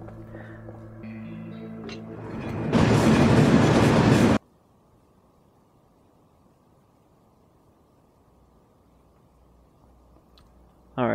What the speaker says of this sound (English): So does the train just show up when I can't avoid it?